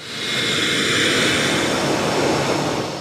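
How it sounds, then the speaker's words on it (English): A jet aeroplane's turbojet engine roaring, a loud, sustained broadband rush that swells and eases slightly as it passes, with no voices. "It is this continuous force which propels a jet aeroplane along."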